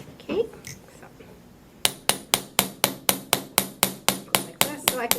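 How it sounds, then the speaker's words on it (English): A jewelry hammer strikes silver wire held in a ring clamp, flattening links with about fourteen sharp, evenly spaced metallic taps in a steady rhythm, close and loud, after a brief spoken word. "you know that you are hitting the piece evenly with your hammer when your piece is lengthening and straight"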